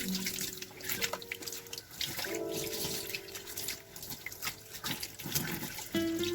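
Water runs steadily from a tap into a sink while shampoo is rinsed out of a wig, with uneven splashing and dripping as the hair is worked under the stream.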